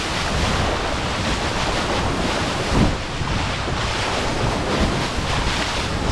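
Wind and breaking waves roar around a Melges 15 sailing dinghy racing in surf, loud and close. Wind buffets the microphone in a constant rushing wash, with a brief surge of water slapping near the middle.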